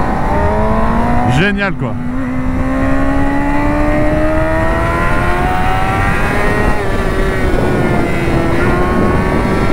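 A Honda CBR1000RR 1000cc sport motorcycle engine revs loud and close while riding, rising steadily in pitch through a gear with a brief shift dip, as a rider's voice speaks briefly over it.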